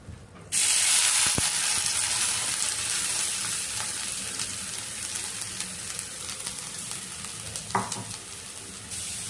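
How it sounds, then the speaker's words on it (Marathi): Fresh grated coconut sautéing in ghee in a pan gives a steady, close sizzle throughout, broken by occasional scraping stir clicks. "याला तुपामध्ये आपण छान असं परतवून घेऊया"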